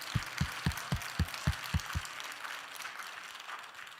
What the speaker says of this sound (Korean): 성령께 박수 한번 드립시다.